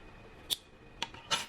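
Scissors snip off a crochet yarn tail on a latte skirt in three quick, crisp cuts spaced across a quiet moment, close and fairly soft.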